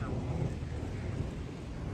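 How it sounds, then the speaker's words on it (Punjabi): Thunder from rain clouds during a rain shower: a low, continuous rumble at moderate loudness that holds steady for the two seconds, with a faint windy hiss and no clear talk. "ਇਹ ਬੱਦਲ ਬੋਲਦਾ ਬਹੁਤ ਹੈ"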